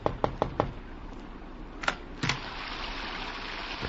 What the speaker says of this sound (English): I thought it was his knock that I heard on my door.